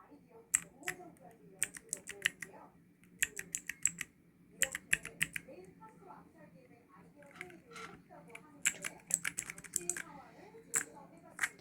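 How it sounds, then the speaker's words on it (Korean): Keyboard keys clack in quick bursts of typing, pausing between runs, close and crisp, with soft talk and background murmur underneath. "이번엔 키보드 키캡"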